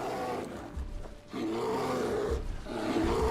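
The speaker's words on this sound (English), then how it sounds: "And the unicorn, which is technically not a horse." A unicorn creature in the Skyblivion video game gives deep, rough roaring growls in about three swelling bursts, loud and close, with no talking over them.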